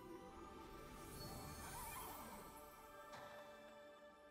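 A horse in the video game Wishblossom Ranch lets out a faint whinny, a soft drawn-out neigh over a quiet, dense in-game background.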